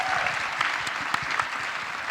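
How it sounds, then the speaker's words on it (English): Audience applause for composer Angelo Badalamenti, a steady broad wash of clapping held at an even level for about two seconds, ending in a sharp low thump. "Big applause for Angelo."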